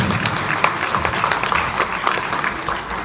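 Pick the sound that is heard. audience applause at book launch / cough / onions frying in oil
audience applause at book launch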